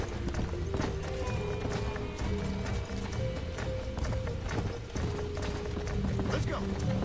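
A horse gallops in Red Dead Redemption on PS3, with rapid, rhythmic hoofbeats pounding steadily up close and a voice talking over them.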